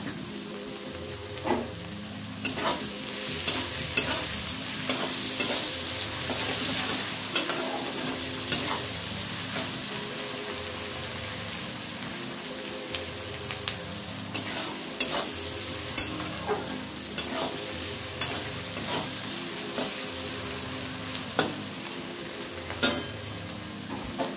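Onions with a little salt fry in a pan, giving a steady sizzle broken by repeated spatula scrapes and clinks as they are stirred, close up, with soft music underneath.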